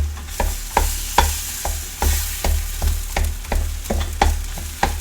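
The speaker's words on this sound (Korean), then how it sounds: "자, 지금부터 볶아줍니다." Egg fried rice stir-fried in a hot pan, a utensil scraping and pressing the cold rice down in a steady rhythm of about two strokes per second over a low sizzle.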